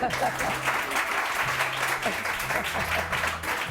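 Steady applause from a TV morning show studio audience fills the whole stretch, a dense patter of many hands clapping at a moderate level.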